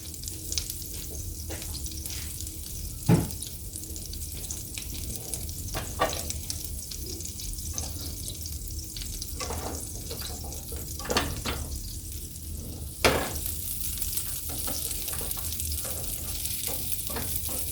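A Beyond Burger plant-based patty fries in a preheated skillet, giving a steady sizzle and crackle with occasional spatula scrapes and a few sharp knocks against the pan.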